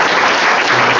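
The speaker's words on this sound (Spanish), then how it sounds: "quisiera pedirles nuevamente un aplauso a los candidatos" A university debate audience claps for the rector candidates, a brief, loud burst of dense applause with no break.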